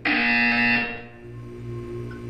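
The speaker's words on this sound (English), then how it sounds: "You will hear a buzzer. When you hear the buzzer, look up at the ceiling." A loud, harsh electronic buzzer from the video game Portal 2 sounds once for under a second, then cuts off, leaving a low steady hum behind it.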